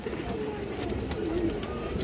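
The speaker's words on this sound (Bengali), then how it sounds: "সিলভার বেজি মাদি কবুতর অনেক সুন্দর একটা মাদি" A silver female pigeon coos softly in low, murmuring phrases set against a steady background hum and faint scattered clicks.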